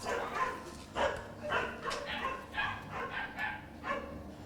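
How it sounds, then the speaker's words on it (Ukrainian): Several dogs bark repeatedly behind a closed apartment door in a steady string of muffled yelps, sounding somewhat distant and enclosed, with faint whimpering between barks. "Чутно лише лай його підопічних."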